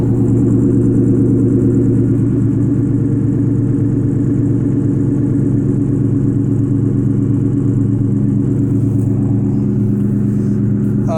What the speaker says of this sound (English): the only difference is that this has the mufflers, the SOP Loudmouth 2 mufflers